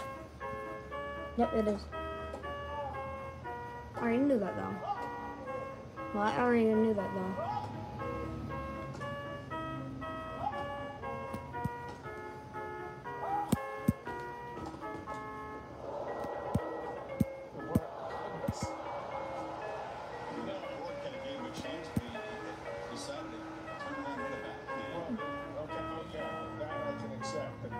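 A 2009 VTech alphabet apple toy plays an electronic tune in bright, beeping melodic notes, with a person talking over it and occasional sharp clicks from the toy's buttons.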